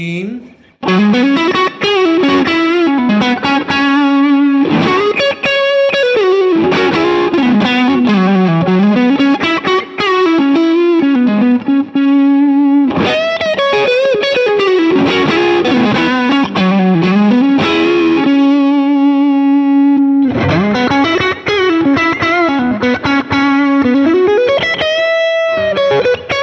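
Distorted electric guitar through a UAFX Dream amp pedal, looping a riff of chugging chords and bending single notes, loud and steady for the whole stretch with brief gaps between phrases.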